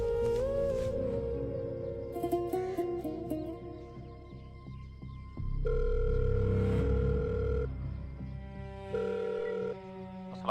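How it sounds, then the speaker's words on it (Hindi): Telephone tones as a number is dialed to reach a police station officer, with steady ringing and dial tones amid background music and effects for about ten seconds, and no talk heard. "मुंशी नंबर मिला एसएचओ दा"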